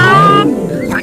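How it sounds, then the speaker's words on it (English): A cartoon cat stuck in a tree lets out a single loud, plaintive meow that slides downward and fades. It is close and alone, with no talk over it. "My cat is stuck in a tree!"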